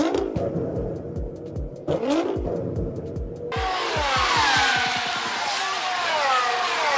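A V6 car engine revs in a rising and falling series of bursts, loud and close, then settles into a broad, sustained roar; no one speaks.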